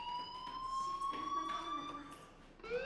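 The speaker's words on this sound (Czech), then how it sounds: "do you hear that fire alarm? That means you should be outside." Fire alarm in the video game Life is Strange, a steady, gradually shifting electronic tone ringing continuously, moderately faint under a busy background murmur.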